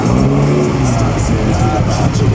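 Classic Alfa Romeo cars revving at the Mille Miglia road race, a loud continuous engine drone with rising and falling pitch close by, a bustling crowd and faint voices underneath.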